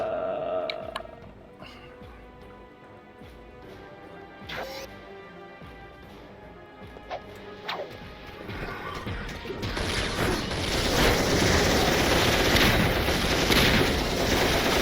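Automated turrets firing in the Ratchet & Clank game, a few sharp isolated blasts followed by a loud, continuous barrage of crashing explosions and mechanical clatter.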